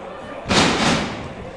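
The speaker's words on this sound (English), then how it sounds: "Fall away slam." A wrestler slams hard onto the ring mat from a fallaway slam at a pro wrestling match, one loud, sharp crash that fades quickly.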